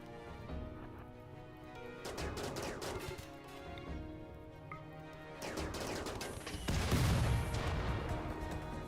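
Gunfire in the video game RimWorld crackles in clustered volleys, repeated bursts of sharp shots over a steady busy background, growing heavier toward the end.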